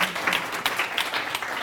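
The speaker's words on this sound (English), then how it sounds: "Let's give her a round of applause." Audience applause at a science lecture on global warming, a short burst of steady clapping from a crowd in a hall, fairly even and moderately loud throughout.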